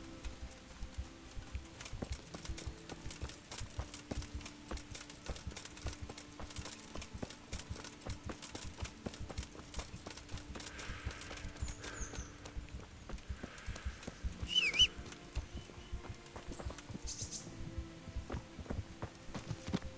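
A horse's hooves pound in a fast, even rhythm while riding in the medieval video game Kingdom Come: Deliverance, the beats fairly soft and continuous throughout.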